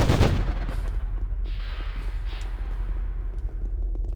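Guns fire in Anarchy Online, a loud sharp blast opening the moment and then echoing and rumbling away, with scattered smaller shot-like pops trailing off in the background.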